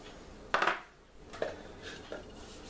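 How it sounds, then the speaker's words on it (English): A fork whisks quiche filling in a dish, making a few quiet, sharp clinks against the bowl with brief scraping in between. "Give it a good old whisk there with the fork"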